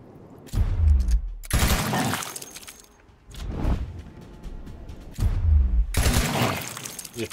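Pistol fire in the Gears video game comes in loud bursts of shots, broken by short quiet gaps, with other game action and explosions mixed in.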